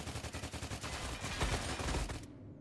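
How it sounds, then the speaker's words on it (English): Gunfire from several players in the video game STALCRAFT: X, a dense rapid burst of automatic shots rattling continuously for about two seconds before cutting off abruptly, no voices. "and they're fucking shooting at me"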